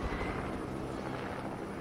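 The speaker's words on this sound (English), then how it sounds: "No, I don't want to fight someone in that helicopter." Helicopter in a video game: a steady, dense broadband rotor-and-engine roar, fairly loud and unbroken for the whole short stretch, with no talk over it.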